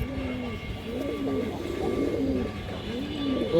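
Coos from a large female Rampuri high flyer pigeon, a Pakistani breed, repeat in soft rolling phrases close by, steady throughout with light background noise.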